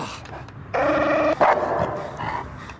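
A dog barks in a Wrigley's gum television advert, one loud, close bark followed by a second yelp, set against a quiet background.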